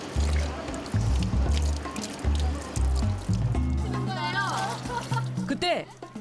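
An elderly grandmother back from the tidal mudflat splashes and trickles water to rinse off sweat, with close splatters and pouring under a voice talking over it.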